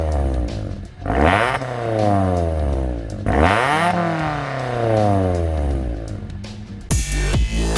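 A stock exhaust on a Kia Cerato Forte revs up and down in two long sweeping pulls, the engine note rising and falling loudly and close by, followed by a sharp burst near the end.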